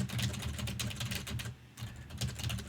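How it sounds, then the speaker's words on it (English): Rapid, close typing on a computer keyboard while entering a Junos device-management command: a dense, continuous run of crisp key clicks with one short pause midway. "if you're typing a command"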